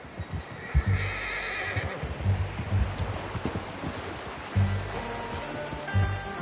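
A video game horse whinnies and snorts a few times over hoof clops and outdoor ambience, close by and moderately loud.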